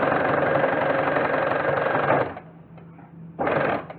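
A sewing machine stitches a pair of pants in a loud, steady mechanical whir that runs for about two seconds, drops to a faint hum, then starts again near the end.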